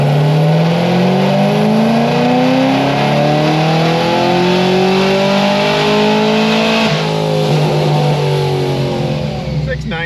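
A car engine revving on a dyno during a full pull, a loud, close, steadily rising engine note with a brief dip partway through, then continuing to climb for about ten seconds.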